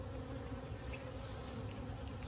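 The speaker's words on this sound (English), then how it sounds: "There's not a whole lot of bees in this hive, Bee." Honeybees hum steadily at an open hive on a farm at sunset, a dense, continuous buzz with no break, moderately loud and close, with no voices.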